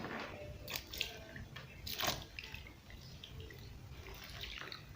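Water splashes and trickles as legs are rinsed at home during a cracked-feet foot-care routine, with soft irregular swishes and a few sharper splashes near 1 and 2 seconds, close and moderately quiet.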